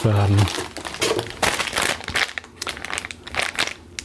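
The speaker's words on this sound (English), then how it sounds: "So we'll take off this sticker." Sticker being peeled off a SwitchBot K10+ Pro robot vacuum base station, a close crinkly plastic rustle with short crackling bursts, mixed with a voice talking.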